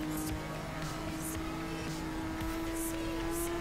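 A car engine in Forza Horizon 3 revving and shifting up through the gears, with a steady engine tone and periodic bursts as each shift lands, heard close with no talking.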